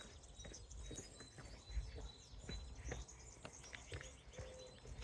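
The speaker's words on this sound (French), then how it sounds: "T'entends ça? Je dis bien, les petits oiseaux et tout." Small birds chirp outdoors near a cemetery parking lot on a sunny morning before a hike toward a chapel, with scattered short tweets and calls over steady low background noise, no talking.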